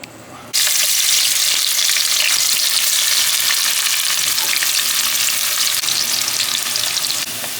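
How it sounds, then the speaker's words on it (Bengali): Bay leaf, cloves, cardamom and cinnamon fry in hot oil for Afghani chicken pulao, a loud steady sizzle that bursts in after a brief quiet start and holds dense and close with faint stirring crackles throughout. "তেজপাতা, লং, এলাচ, দারচিনি তেলে ভেজে নিলাম।"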